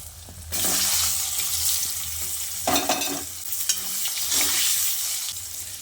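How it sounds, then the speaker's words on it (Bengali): Eggplant (brinjal) fried in the oil left from frying hilsa fish, heard as a close, bubbling sizzle that swells and fades with stirring, plus a few louder splattering bursts. "মাছ ভেজে তুলে নেওয়ার পর ওই তেলে বেগুনগুলোকে ভেজে নিচ্ছি।"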